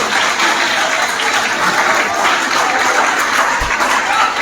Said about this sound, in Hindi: प्रोफेसर फैसल शफीक साहिब के लिए भरपूर तालियां।